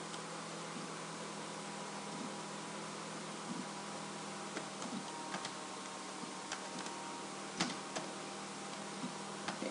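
Keys on a computer keyboard are tapped in scattered light clicks, faint and irregular, under a steady broadband hiss.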